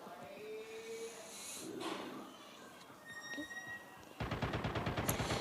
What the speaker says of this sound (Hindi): यहाँ पे मेरे को फायरिंग का साउंड आया